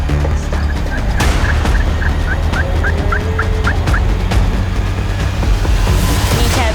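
A wild turkey gobbler struts and drums in the open during a spring hunt, giving a quick run of repeated short notes over a steady low rumble, fairly close and without any voices.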